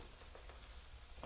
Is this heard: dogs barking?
no